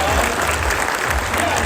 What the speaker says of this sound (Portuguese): Palmas para o Rafael,